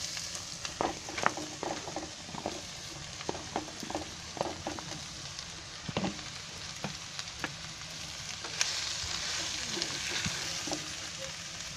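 Cabbage pieces frying in a pan for a spiced shahi cabbage dish, a steady sizzle punctuated by scattered pops and stirring clicks, moderately close, with no talking.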